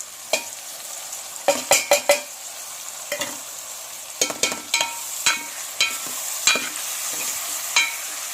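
Boiled green chickpeas are stirred into a pan of frying eggplant curry: irregular spoon scrapes and sharp clinks against the pan over a soft continuous sizzle, close by with no voices.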